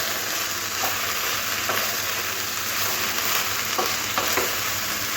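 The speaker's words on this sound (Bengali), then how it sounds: "মেশাতে মেশাতে এখানে দিয়ে দেবো ভেজে রাখা চিংড়ি মাছগুলো" Banana stem stir-fries with fried prawns in a pan, a dense, even, hissing sizzle holding steady throughout with a few faint stirring scrapes underneath, close and loud, no talking.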